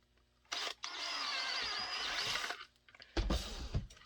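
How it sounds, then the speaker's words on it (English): A power drill bores a hole through a suppressor-ready handgun holster, giving a steady, close whine for about two seconds, followed by a short burst of handling clatter. "So we'll drill this right around there."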